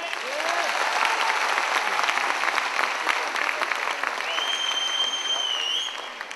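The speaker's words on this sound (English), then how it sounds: "Enthusiastically, let's have a big clap." Audience clapping enthusiastically at a Rotary Youth Leadership Awards talk in Pune, a full sustained round of applause from a crowd, with a faint whistle over it, tapering off at the end.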